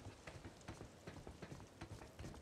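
Quiet rain patters on a surface with soft irregular taps over a continuous low hiss, faint and steady without voices, in foggy weather in the video game Days Gone.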